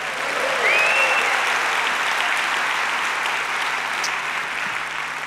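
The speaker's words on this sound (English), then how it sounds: "one more cheer for you" A large audience at the Skoll World Forum opening plenary claps and cheers, a loud, steady roar of applause lasting about five seconds with a brief whistle early on.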